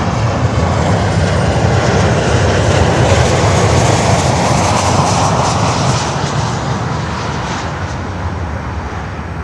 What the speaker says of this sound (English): This is Aer Lingus Shamrock coming in.